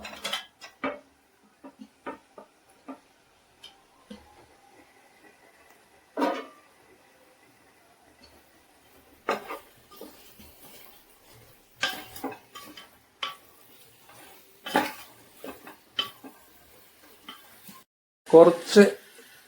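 Fried chicken stirred into a Kozhikode-style fried chicken biryani in a pot, heard as intermittent scraping and clattering of a spoon against metal in separate bursts, near and moderately loud, with a voice talking at times.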